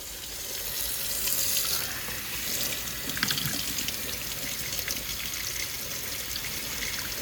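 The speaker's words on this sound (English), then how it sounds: "I've got all the acid rinsed off of there now" Running tap water rinses acid off a small refined gold button recovered from computer scrap, a steady broad splashing rush close by that holds for the whole stretch with slight shifts as the piece moves under the stream.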